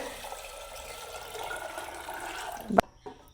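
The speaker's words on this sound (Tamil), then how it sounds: "இப்போ நாங்கள் தண்ணியை ஊற்றி இதை அவிச்சு வடிவாக எடுக்க வேணும்" Water is poured into a pot of chickpeas set to boil, a steady close rushing pour lasting a few seconds that ends with a sharp knock of the pot.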